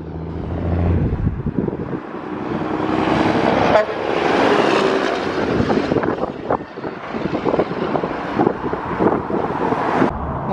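A massive classic Mack truck pulls away from a classic truck show at a truck stop, its engine rumble mixed with wind buffeting the microphone and a brief horn toot.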